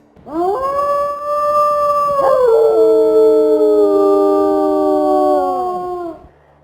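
A wolf howling in WolfQuest, a single long, loud tonal howl that holds steady, dips in pitch midway and sustains for about six seconds before trailing off, heard alone.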